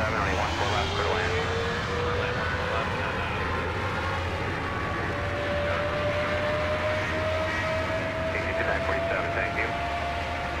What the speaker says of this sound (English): Heavy Boeing 777 on a 3-mile final.